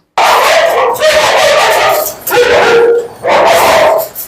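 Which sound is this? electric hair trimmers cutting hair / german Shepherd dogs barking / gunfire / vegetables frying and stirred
german Shepherd dogs barking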